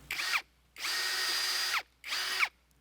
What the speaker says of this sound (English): let's go ahead and put our first pre-drill hole here using this drill